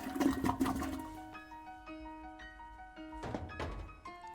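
In the comedy adventure game Shadows Over Loathing, a workmanlike toilet inside a flooded lighthouse is flushed. A thunk is followed by a rushing, gurgling flush, with a short musical jingle ringing out over the water.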